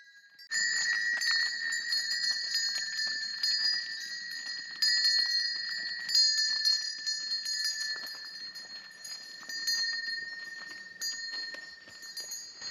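Many metal cowbells on grazing cows in Wildschönau, Austria clank and jangle continuously, overlapping in an irregular rhythm, swinging close by.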